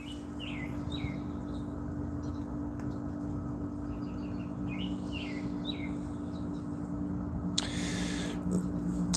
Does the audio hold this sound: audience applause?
no